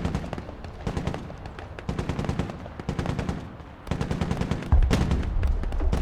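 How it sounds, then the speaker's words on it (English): Two heavy machine guns in the video game Broken Arrow fire loud, rapid bursts of automatic gunfire again and again. A heavier booming impact joins near the end. "Now the 2 heavy machine guns are lighting up that building"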